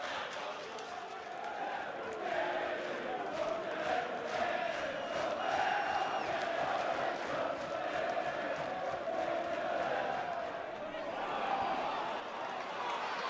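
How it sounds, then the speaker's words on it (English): Home football crowd roaring in a stadium, a sustained swelling cheer with broad chanting and noise over a long stretch, distant and steady, with a commentator's voice faintly underneath. "that gets the home crowd going"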